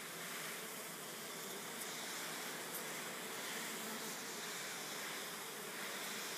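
A steady, dense buzzing hum of many Japanese honeybees fluttering together in the hive, swelling and fading gently like a wave, continuous throughout with no voices.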